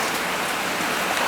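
Rain begins falling at the Volcán de Fuego tragedy zone, a dense, steady hiss of drops hitting the ground that stays loud and even throughout, with no voices.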